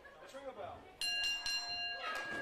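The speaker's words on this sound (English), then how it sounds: "Well, there's the bell." A ring bell in a best two out of three falls wrestling match strikes several sharp, ringing clangs in quick succession, each with a lingering metallic tone, over crowd noise and a commentator talking.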